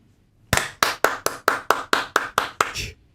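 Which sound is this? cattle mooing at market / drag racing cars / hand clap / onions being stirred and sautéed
hand clap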